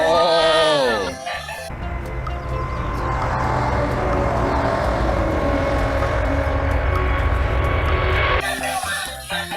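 A toy airplane plays an engine sound effect: a loud, steady, rushing jet-like roar that lasts several seconds, with brief talk just before and after it.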